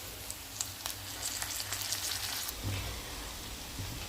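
Vegetables land in a pan of browning onion and garlic, giving a crackling sizzle with sharp spits and pops that settle into a softer, steady fry.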